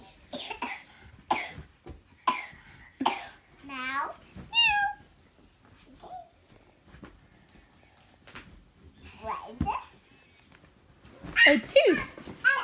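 A young child imitates a cat's meow with a pair of wavering, rising-and-falling vocal meows. Adults talk and cough indoors around the imitation.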